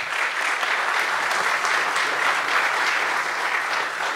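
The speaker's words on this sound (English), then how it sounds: "Let's thank them with the claps of hands." Audience applause for debate panelists at the close of a panel discussion, a steady, dense clapping that holds at full strength for several seconds with no talk over it.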